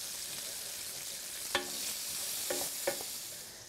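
Bacon frying in a frying pan makes a steady, close, bright sizzle, broken by a few sharp utensil clinks against the pan.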